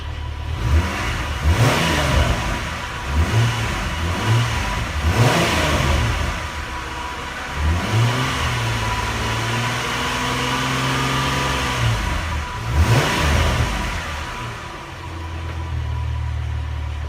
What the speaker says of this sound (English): So let me go give the car some gas